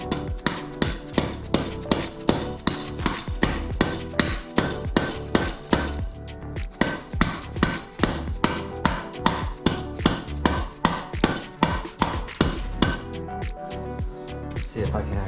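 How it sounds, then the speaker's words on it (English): Hammer taps a part into place during a 2021 Yamaha YFZ 450R ATV build, a long run of sharp, evenly spaced metallic strikes, loud and close, that briefly pauses midway. "This is gonna have to get tapped in."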